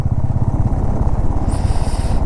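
Motorcycles ride along a deserted mountain road, a steady close engine drone with rhythmic pulsing, and wind noise rises toward the end.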